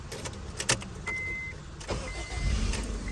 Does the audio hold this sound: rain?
no